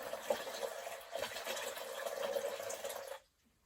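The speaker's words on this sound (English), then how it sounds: "Good pouring." Water streams out of a watering can in a close, splashy pour with slight surges, running about three seconds before stopping abruptly into quiet.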